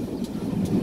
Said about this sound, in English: I think there might be another train passing us in Blue Anchor.